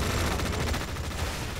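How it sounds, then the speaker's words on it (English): Dense, continuous rattling gunfire from the video game Tom Clancy's EndWar, loud and unbroken, with no voices over it. "why the fuck is he shooting at a sign?"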